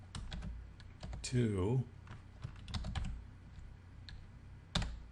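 Typing on a computer keyboard while entering C# code, a quick run of close clicky keystrokes in bursts, interleaved with someone talking.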